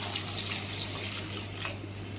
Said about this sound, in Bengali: এর মধ্যে আমি দিয়ে দেবো পানি।